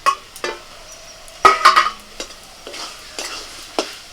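Fried potatoes stirred into chicken in a sizzling pan, with a spatula scraping and clinking in several uneven strokes over a low, steady frying hiss, up close and with no talking.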